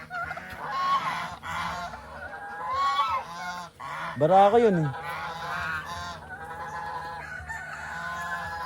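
A turkey gobbles in a loud burst midway, surrounded by other poultry calls and clucking, with a brief voice speaking.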